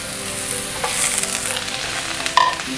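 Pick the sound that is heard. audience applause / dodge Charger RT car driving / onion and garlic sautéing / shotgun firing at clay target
onion and garlic sautéing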